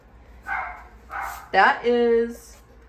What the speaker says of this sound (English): He's a purebred German Shepherd pup.